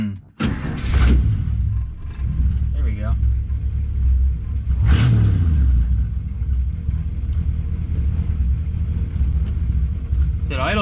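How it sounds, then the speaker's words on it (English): A 1934 Ford with a rebuilt carburetor burbles and rumbles low while driving, its exhaust steady throughout with a brief rise near the middle, as people talk over it. "There's still a burble to the exhaust"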